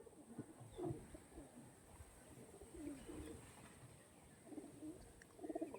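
Tatira line breed pigeons coo softly and repeatedly at close range, low murmuring calls overlapping one another against a quiet background with no talk.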